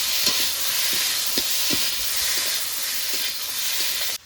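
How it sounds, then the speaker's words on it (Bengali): Potatoes sautéed in a pan with turmeric and ginger-chili paste, a steady broad sizzling hiss with several soft scraping stirs at irregular intervals, close and fairly loud, no talking. "আলুটা ভালো করে কষিয়ে নিয়েছি"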